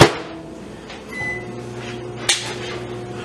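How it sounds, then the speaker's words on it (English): A microwave oven runs while melting butter. Its steady low electrical hum carries on throughout, with a sharp click at the start and a brief knock partway through. "Put it in the microwave."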